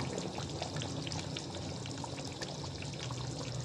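Yogurt pours into a curry of bong paye (beef shank) frying in a pot, making a continuous soft rushing, trickling hiss mixed with sizzle, steady and close, with no voices.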